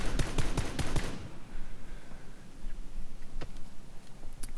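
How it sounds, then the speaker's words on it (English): PUBG gunfire, a rapid burst of loud, close shots in the first second, then scattered fainter distant cracks, with no talk. "Try to shoot the guy in the Jeep that's moving"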